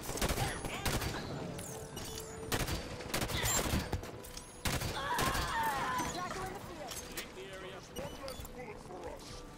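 Halo 5: Guardians gunfire, with repeated sharp shots and bursts from a firefight going on throughout, moderately loud, with a voice talking over it.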